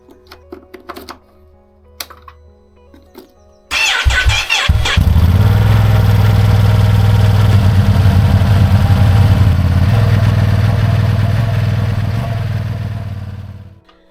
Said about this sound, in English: let's give you a cold start of the OEM exhaust as the first clip